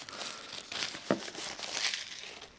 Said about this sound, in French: Donc je vais ouvrir la boîte qui est en plastique